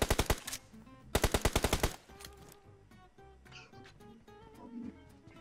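Rapid bursts of automatic gunfire from PUBG, a shotgun-focused match in the Rozhok area, rattle loud and close in two dense volleys, followed by quieter scattered in-game sounds and distant effects.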